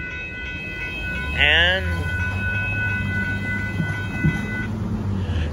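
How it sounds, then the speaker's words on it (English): A northbound Union Pacific auto train passes at a road crossing in Austin, Texas, with a loud steady rumble and wheel clatter throughout and a horn blast near the start; a voice speaks briefly over it. "there goes the northbound Union Pacific auto train."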